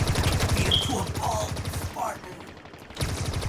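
A needler gun firing continuously in Halo Infinite: a fast rhythmic stream of rapid shots, loud and close, breaking off briefly before resuming, with some game sounds mixed in.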